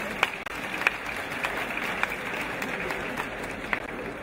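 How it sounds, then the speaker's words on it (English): Audience applause at a symposium for a book launch, a sustained crowd clapping heard at moderate distance with a few sharper individual claps standing out. "A round of applause for them."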